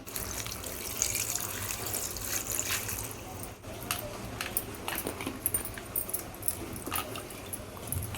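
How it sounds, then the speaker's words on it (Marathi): Running water splashes and trickles steadily while hands rinse crabs in a sink, with occasional clicks and clatter close by. "आता आपण हे 2-3 वेळा पाण्याने धुवून घेणार आहोत."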